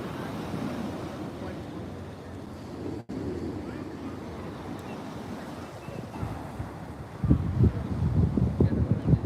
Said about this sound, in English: Beautiful ocean today.